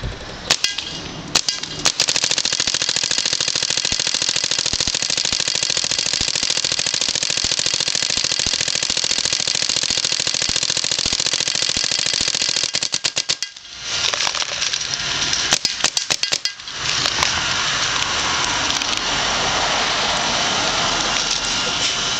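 Fully upgraded ProMaster PSP 3-shot paintball marker firing in a video game, a loud continuous rattling stream of rapid shots for many seconds, briefly breaking off midway before resuming, with no talking.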